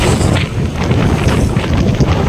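Strong sea wind during Typhoon Nando sweeps over flooded rice fields in Abulug, Cagayan, roaring continuously and loudly into the microphone with no pauses.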